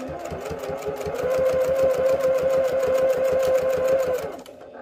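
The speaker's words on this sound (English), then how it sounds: "we're just going to sew all the way down this line" A sewing machine stitching a long straight seam through fabric for a round ottoman tuffet, a loud steady rapid whirr with a sustained motor tone that runs evenly for about four seconds before winding down at the end.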